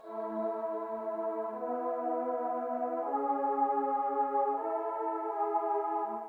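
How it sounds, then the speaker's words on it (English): Warm, fluffy synth pad preset from Expand in a lofi beat holds soft sustained chords, shifting to a new chord midway, quiet and smooth with nothing else playing. "The pads are from Expand."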